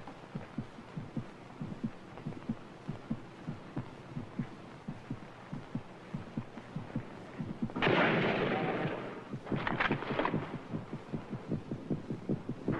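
A man's heartbeat throbs in a slow, regular double pulse, low and muffled, repeating steadily throughout, briefly overlaid by a burst of harsher noise near the end before the beat resumes.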